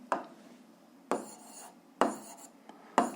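Pen strokes scratch across paper while a physics solution is written out, four distinct bursts about a second apart, each a short rasp fading quickly, close and fairly quiet with no voice.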